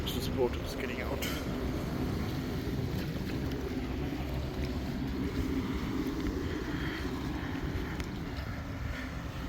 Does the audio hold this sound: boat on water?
yes